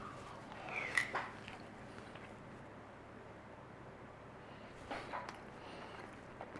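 Chewing on a forkful of chicken pasta bake with stringy cheese, peri-peri sauce and crunchy vegetables, a few soft crunchy bites near the start and again later, close and quiet against a faint steady background hum.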